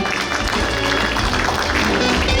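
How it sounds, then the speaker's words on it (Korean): Audience applause at a Gumi city investment memorandum signing ceremony with LIG Nex1, a steady crowd clapping throughout under some background voices and hall noise. "여러분 박수 부탁드립니다"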